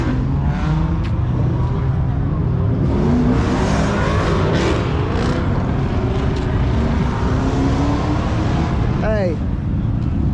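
Diesel vehicles rev loudly at a car meet in Kent, Washington, their deep engine roar continuous and close, with a brief squeal near the end and voices mixed into the din.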